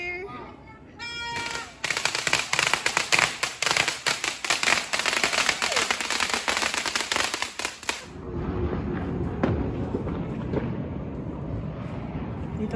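New Year fireworks and firecrackers going off, a dense rapid crackling barrage of loud pops and bangs after a quiet start, then thinning into scattered distant booms and crackles with voices faintly in the background.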